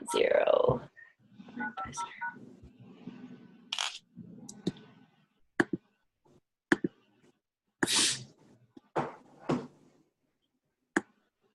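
Touch-tone keypad beeps sound as a meeting ID is entered on a phone for a team call. Short separate tones are spaced out at an uneven pace, and speech comes before them.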